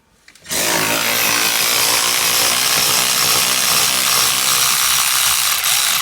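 A Milwaukee 1/4 inch power tool removes bolts, starting abruptly and then running as a loud, continuous ratcheting buzz close by for several seconds.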